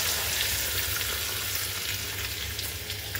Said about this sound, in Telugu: ఈ పోపు ఆయిల్ దీంట్లో వేసుకోవడం